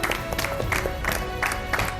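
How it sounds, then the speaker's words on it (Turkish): Studio audience applause on a Turkish television cooking competition, a dense, steady patter of clapping from a crowd, fairly close and continuous throughout. "Alkışlarla."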